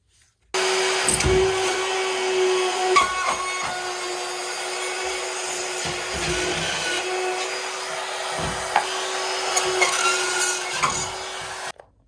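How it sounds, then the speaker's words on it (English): A rotary cutout tool whines steadily as it cuts a hole through drywall in a house under renovation, loud and close with a constant high motor tone and gritty scraping bursts, ending abruptly. "Now you'll want to either grab a drywall blade or my favorite, a cutout tool."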